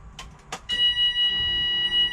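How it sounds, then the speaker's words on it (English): Bus cab warning alarms sound as the power is switched on with the engine off and the vehicle in neutral: a few short clicks and bleeps, then a sustained close, loud electronic tone that pulses. "We know that the alarms are working."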